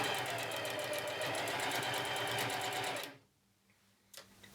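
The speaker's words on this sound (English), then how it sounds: "I'm going to sew it on" Sewing machine stitching fabric with a long stitch, a fast steady run of rapid mechanical clatter for about three seconds, then it stops, leaving near silence and a faint click.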